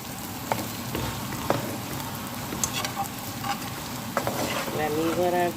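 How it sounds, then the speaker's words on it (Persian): Sausages fry in a pan with a steady, close sizzle and crackle, punctuated by occasional sharper pops and a few clinks of a utensil stirring near the end. "سوسیسامو سرخ میکنم بقیه‌اش"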